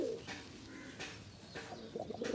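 Chila pigeons coo repeatedly in soft, throaty phrases over a steady background hum, with a few brief chirps mixed in.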